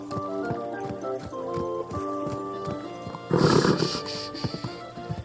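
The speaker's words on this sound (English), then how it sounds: "Easy, good horse." Horse in the medieval game Kingdom Come Deliverance 2 trots along with rhythmic, regular hoof clops under a sustained musical drone, then gives a brief, rough snort or whinny burst near the end.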